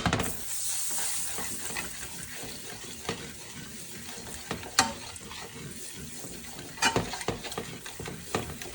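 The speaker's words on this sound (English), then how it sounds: "I'm going to add a tablespoon of curry powder, and I'm going to let it burn a little bit." Curry powder frying in coconut oil in a skillet makes a continuous, close sizzle with irregular sharp crackles and a few louder spatters and clatters.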